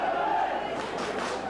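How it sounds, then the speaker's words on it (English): A St Helens rugby league crowd roars and cheers at a match against Hull, a broad continuous wash of many voices at a distance, with no other sounds standing out. "The Saints crowd just getting behind them now."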